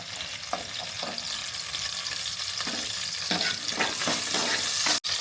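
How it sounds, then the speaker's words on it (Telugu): Green chillies frying in hot oil in a pan give a steady, dense sizzle that runs throughout at close range, with a few light clatters of stirring and no talk. "పచ్చిమిర్చి ఫ్రై అయిన తర్వాత"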